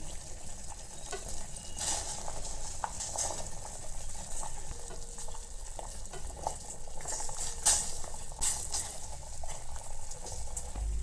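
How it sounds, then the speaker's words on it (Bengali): Water boils in a pot on the stove while rasmalai is being made, a steady soft bubbling hiss with a few light clinks and taps, close and fairly quiet throughout. "এরপরে জলটা ফুটছে এর মধ্যে দিয়ে দেবো"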